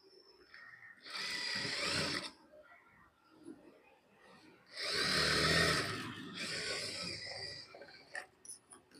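A sewing machine stitches the waist joint of an Aliya-cut dress, running in two bursts: a short run early on, then a longer, louder stretch with a brief pause, over a quiet room.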